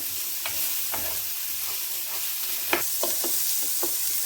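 Paella ingredients for a seafood paella sautéing in a pan, a steady soft sizzle with light stirring scrapes and a few spoon taps, close and alone with no talk.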